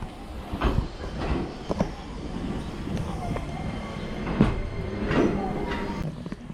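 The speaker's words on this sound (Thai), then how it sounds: "รถไฟของเรามาแล้ว" A train arriving at a station near Kamikochi, Japan, rumbles and clatters past nearby with rail squeals and clacking, steady background noise throughout, with faint voices mixed in.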